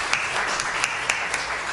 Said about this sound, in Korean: 축하의 박수를 한번 쳐도 될 것 같아요.